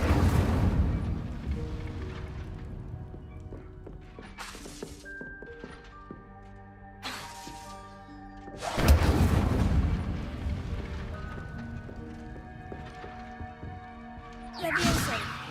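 Incendio fire spell cast repeatedly in Hogwarts Legacy, heard as several sharp whooshing bursts with heavy thumps and crackling flares, interleaved with other spell effects and tonal chimes, loud and close.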